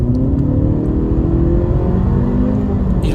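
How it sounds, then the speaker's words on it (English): A 2019 Honda Civic 1.5 Turbo Prestige with automatic transmission accelerating along a back road, its engine note rising steadily under a loud, constant cabin rumble and road noise, with no one talking. "you'll see along through here, it accelerates quickly"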